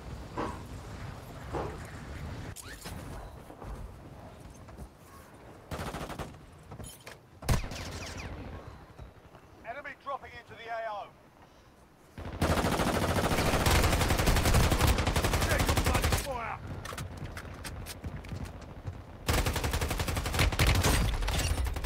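Bursts of automatic gunfire and explosions from the mobile battle royale game Call of Duty Warzone Mobile, loud and dense, with rapid rattling volleys, a quieter lull midway, then sustained heavy firing.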